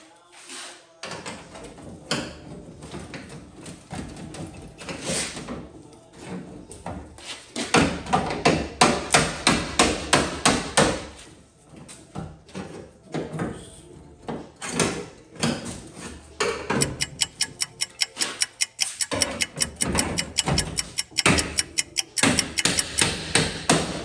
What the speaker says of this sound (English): Might be able to hammer it out.